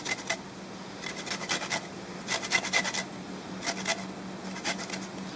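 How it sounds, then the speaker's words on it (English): A fresh lime is grated for zest with quick, rhythmic rasping scrapes in short bursts, close and fairly quiet, with a low kitchen hum underneath. "Lime zest. You can use lemon zest if you prefer."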